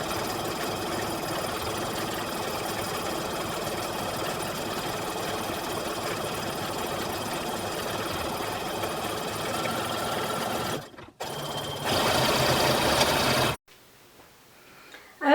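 A sewing machine runs steadily for about eleven seconds, sewing blanket fabric with matching thread at a short 2mm stitch length. It is loud and continuous, then stops briefly, makes a short louder burst and falls quiet.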